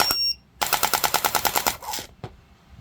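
Bohan MK8 gel blaster toy fires a rapid burst of about a dozen sharp, evenly spaced clacks, close and fairly loud, preceded by a short whir and followed by a single click.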